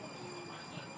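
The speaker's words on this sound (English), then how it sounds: "And here comes my train." Steady low rumble and hum of a Tide light rail train pulling into Newtown Road station, with faint rail squeal, continuous throughout the brief moment.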